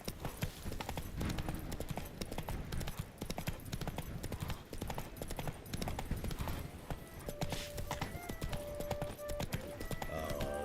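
Geralt's horse Roach trots in Witcher 3 with a rapid, steady clip-clop of hooves throughout, close and fairly loud, with brief game tones near the end.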